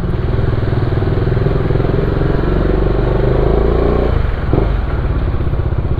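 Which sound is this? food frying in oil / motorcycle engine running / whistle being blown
motorcycle engine running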